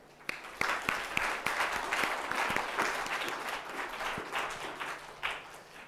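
Steady audience applause greets a professor arriving to speak on medical futility, with dense clapping at an even level and a few sharper individual claps, then a gradual taper.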